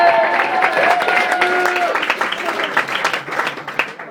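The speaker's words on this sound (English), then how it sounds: "Give him a clap." Wedding guests clap and cheer during a reception speech, a dense round of applause with voices rising over it throughout.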